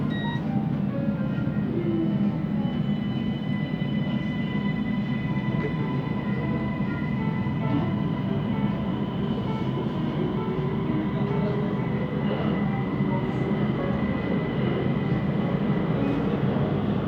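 A Siemens Inspiro metro train on the SBK Line rides between Taman Mutiara and TTDI, with a loud, steady rolling rumble and whine from the wheels, continuous and close, inside the car.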